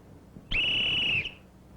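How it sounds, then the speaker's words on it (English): A safety whistle carried on a key ring gives one sharp, shrill blast of under a second, loud and steady, in an old 1970s 16mm film soundtrack. "Put a whistle on it and use it whenever you have to."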